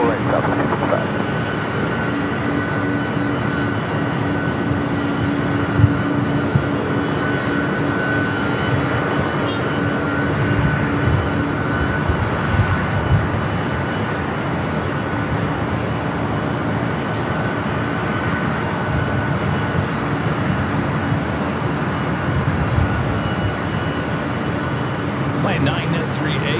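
A jet airliner roars loudly and steadily on the north side at LAX, a broad sustained engine rumble filling the whole stretch, with occasional faint clicks.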